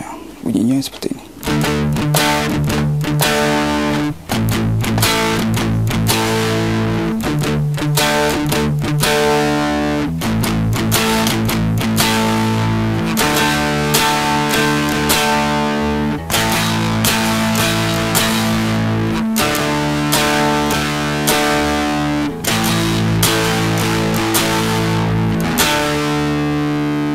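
Rhythm guitar played through a Boss DS-1 distortion pedal, chugging chords with a thick, saturated tone that runs continuously and loud, with short rhythmic breaks between chord changes.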